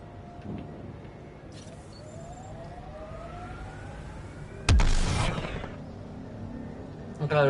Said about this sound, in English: can hear the other characters like using their little jetpack thing because it sounds like gunfire